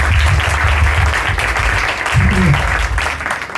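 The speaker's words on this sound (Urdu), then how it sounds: "سارے تالی مار سکتے ہیں؟" A church congregation at a Sunday service claps together in steady, loud, continuous applause that fills the room for several seconds.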